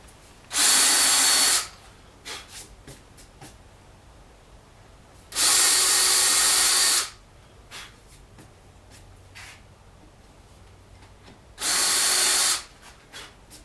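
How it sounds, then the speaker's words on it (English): A power drill whirs into wood in three separate bursts, each about a second long, with quiet pauses and small tapping noises in between. "Got one more hole to drill"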